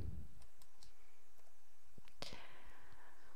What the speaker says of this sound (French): je peux cliquer dessus et je les supprime par la touche supprime du clavier